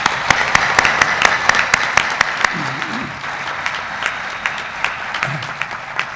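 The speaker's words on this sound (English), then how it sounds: "Please join me in a round of applause of thanks for our staff." A graduation audience at the Darden ceremony claps in thanks for university staff. The applause is steady and crowd-wide, with sharp nearby claps standing out and a voice briefly heard beneath it.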